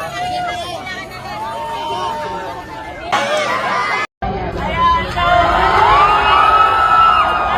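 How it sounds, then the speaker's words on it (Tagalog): A large crowd packed together in a public gathering, a dense roar of chatter, shouts and cheering with high whoops rising over the babble, loud and continuous apart from a brief cut midway. "Ang dami-daming tao."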